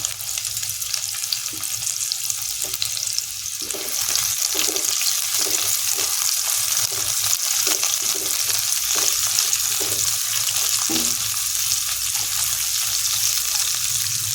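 Black cumin and dried chillies tempering in hot oil, a constant bright sizzle with a spoon stirring and scraping at intervals, close and steady.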